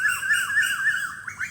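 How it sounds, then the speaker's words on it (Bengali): Birds call outdoors in a village setting, a loud repeated warbling squawk cycling steadily and close by, with no talk. "কত পাখি ডাকছে গরু আছে"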